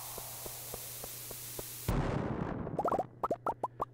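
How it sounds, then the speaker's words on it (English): A bomb detonates in a mine in the video game Stardew Valley: a soft ticking fuse, then a single sudden muffled blast with a short rumbling tail, followed by a few quick pops of scattering debris. "And a good place to drop a bomb right there."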